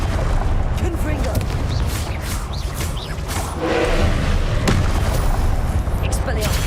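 In Hogwarts Legacy, the Confringo explosive spell goes off as a dense, loud burst of booming, crackling blasts that rumble for several seconds.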